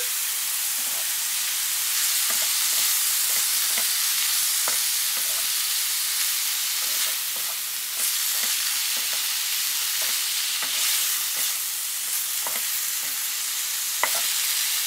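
Boiled potato cooks in a frying pan with a constant sizzle, and scattered pops and crackles break through the hiss from start to finish.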